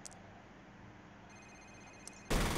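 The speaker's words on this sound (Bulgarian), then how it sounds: "Телефон някакъв звъни тук." A telephone rings inside the video game F.E.A.R., faint and distant in a quiet in-game room, with a few thin ringing tones over low ambient hum before a sudden loud burst at the end.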